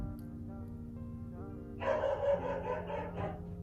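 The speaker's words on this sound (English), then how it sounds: "I know Bailey, the dog, is going to bark his head off like incessantly." A dog barks indoors in a burst of several quick, fairly close woofs over a steady humming drone, with a living room and kitchen setting.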